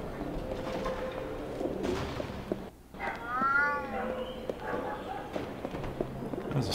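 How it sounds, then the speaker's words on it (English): A scrawny cat meows once in the video game Alice: Madness Returns, a short rising and falling cry heard clearly over a steady, busy ambient game background. "Scrawny little kitty cat."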